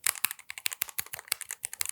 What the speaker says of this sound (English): This is the split keyboard from Lofree.